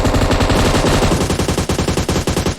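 Loud, close automatic gunfire in PUBG Mobile on the Erangel map: a long rapid stream of shots that breaks into shorter choppy bursts toward the end.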